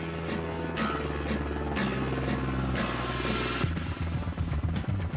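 A helicopter flies close by for an extreme skiing jump, its rotor chopping in a steady rapid pulse with a loud whining drone.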